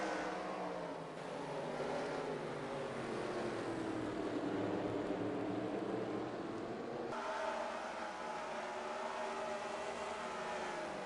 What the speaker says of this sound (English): Finally, our simulated race is going back to green.